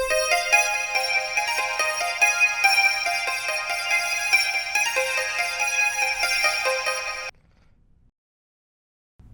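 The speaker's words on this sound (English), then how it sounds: "The first thing that I laid down was this Pluck from Spire." A bright, ringing pluck patch from the Spire synthesizer plugin plays a quick repeating melodic pattern for about seven seconds, then cuts off abruptly into near silence.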